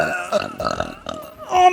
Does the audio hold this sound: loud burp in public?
yes